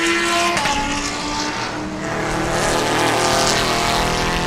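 Spec Corvette race cars roaring through turn 5 at Sebring, a loud, steady engine drone with shifting pitch as the pack passes close by.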